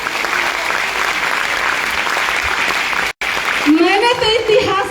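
An audience claps together at an indoor gathering in Uttar Pradesh, a steady roar of applause that breaks off abruptly, then returns with a voice speaking loudly over it.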